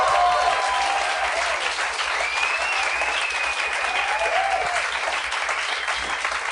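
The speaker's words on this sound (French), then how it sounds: "J'aimerais qu'on donne une bonne main d'applaudissement à mes invités de la semaine." Studio audience applauds the guests on a talk show, a full, continuous wash of clapping with a few faint cheers, steady from start to finish.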